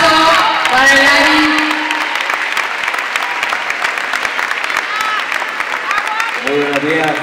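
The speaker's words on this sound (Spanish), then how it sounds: "Les pido un fuerte aplauso para el Ari." Loud audience applause at a provincial education congress, sustained clapping with crowd noise and faint voices and tones over it, lasting the whole stretch.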